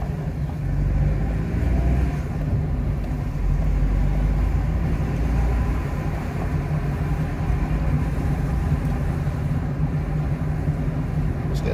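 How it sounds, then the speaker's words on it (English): A car driving through the town of Conwy, a steady engine hum and road rumble heard from inside the vehicle, moderately loud, with no talking. "And now we're going to drive round Conwy."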